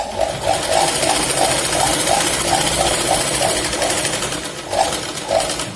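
A sewing machine stitches a katori blouse, with a rapid, regular whirring run of stitches heard close up. There is a brief pause near the end, and then the stitching starts again.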